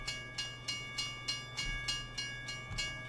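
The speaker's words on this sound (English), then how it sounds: "And apparently I got to move the train." Train rolling along the rails in Farming Simulator 17, with steady evenly spaced rhythmic clacks as wheels pass rail joints, heard alone at moderate loudness.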